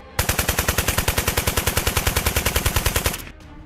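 Twin Vickers machine guns of a World War I Allied fighter fire a steady, rapid, loud burst of evenly spaced shots for about three seconds, then cut off abruptly.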